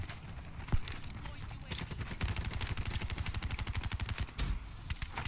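Rapid automatic gunfire from a gun in Call of Duty Black Ops 3, a fast string of sharp, evenly spaced shots in sustained bursts with a brief pause between them.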